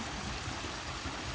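Warm water flows steadily at the Bojnice spa mill, a close, continuous rushing stream with no talk over it.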